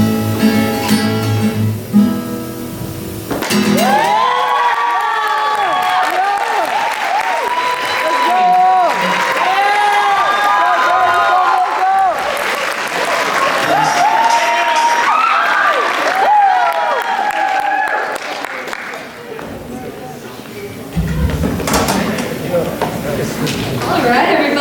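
An audience at a dance performance cheers and applauds, loud sustained clapping with high whoops and shouts rising and falling for many seconds, then fading as a voice comes in.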